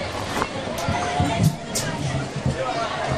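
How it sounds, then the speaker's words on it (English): Spectators at a junior high (7th and 8th grade) football game against Bexley murmur and chatter in a steady, moderately loud babble, with a few louder voices rising briefly from the stands. "Still got a fairly decent crowd there."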